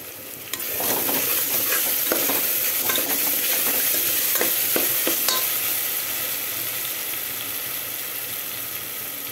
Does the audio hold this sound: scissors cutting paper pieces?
no